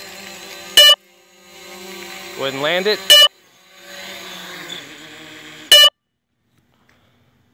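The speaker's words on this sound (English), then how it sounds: "I don't know why it's giving me this crazy beeping noise." Three loud, sharp beeps from a DJI Mavic Pro drone controller sound at regular intervals, each cutting through a background hum and a brief speaking voice.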